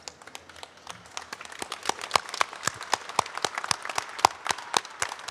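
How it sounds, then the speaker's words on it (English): A crowd at a community celebration applauds in honor of a local figure, with clapping that starts light and swells into a fuller, steady round with crisp individual claps close by. "Stand up on your feet and give him a big round of applause."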